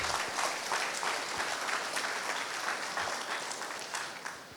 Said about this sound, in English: Give a big round of applause because he's your champion.